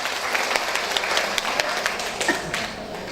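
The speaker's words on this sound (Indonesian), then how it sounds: "Kita tepuk tangan untuk kita semua yang ada." Audience at a midwives' gathering applauding together, a brisk spread of many hands clapping with some individual sharp claps standing out, continuous and fairly close.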